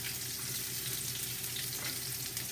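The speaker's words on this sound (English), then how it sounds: "that's browning nicely" Cod loin frying in a pan gives a steady, close sizzle and crackle that holds evenly without pause or voices.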